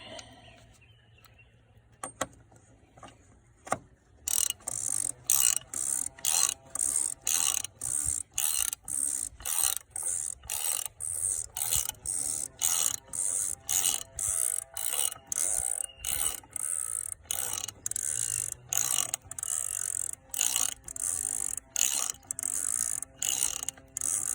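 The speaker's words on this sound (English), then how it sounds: "you're gonna need the socket wrench" Socket wrench ratcheting rapidly during an oil change on an Audi A8 D3, a long run of sharp, evenly spaced clicking strokes, close and loud, after a few seconds of near quiet.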